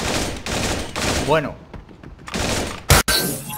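Gunfire in the video game Creative Destruction: rapid, loud broadband bursts and a sharp crack near the end, with someone talking briefly in between.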